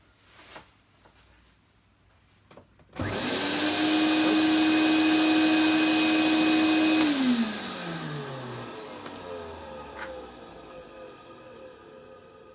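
Vintage vacuum cleaner switched on after a few quiet handling clicks: the motor surges up loudly with a steady high whine, runs for a few seconds, then is switched off and winds down with a falling pitch.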